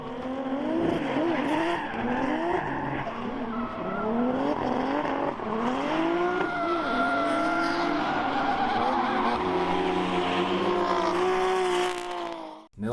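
A car drifts at Circuit Paul Ricard, its loud engine revving and wailing through shifting pitches while the tires squeal continuously close by, ending in an abrupt cut.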